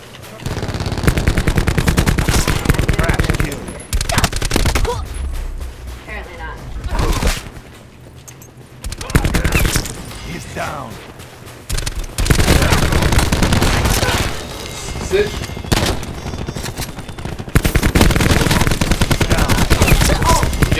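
Loud, sustained automatic gunfire from the video game Call of Duty comes in long bursts with short pauses between them, and excited voices talk over the shooting.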